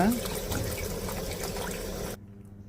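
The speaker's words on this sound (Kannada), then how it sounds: "ನೋಡಿ ನಾವು ನೀರು ಹಾಕ್ತಾ ಇದ್ದೀವಿ" Water is poured into a pan for upma in a street-cart kitchen. The liquid pours and splashes steadily up close, then cuts off abruptly near the end.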